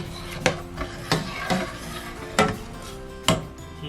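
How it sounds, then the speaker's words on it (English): Drained chickpeas tipped from a colander into a curry pan, landing in several sharp clattering bursts spaced about a second apart, close and fairly loud, with no talking. "Now in go the chickpeas, which I drained in this colander earlier"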